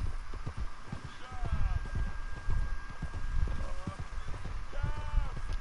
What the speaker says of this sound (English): This white horse is the rarest horse in the game